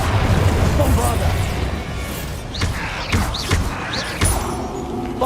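Several Bombarda blasting-spell explosions in Hogwarts Legacy, a series of booming thuds and bursts with whooshing tails over a dense background of game sound and voices.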